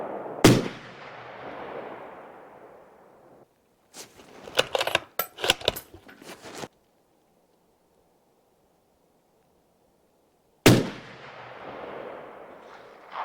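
Hunting rifle shots fired at a 100 yard range, two loud sharp booms with long echoing decay, separated by a cluster of rapid metallic clicks and clatter, near and alone.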